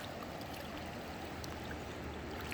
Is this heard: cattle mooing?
no